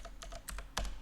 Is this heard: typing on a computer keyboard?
yes